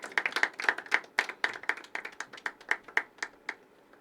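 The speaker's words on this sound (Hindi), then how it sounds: "तालियां उठे, तालियां उठे।" Scattered hand claps from a small audience at a poetry open mic, a run of distinct close claps at an uneven rhythm that thins out toward the end, with no talking over them.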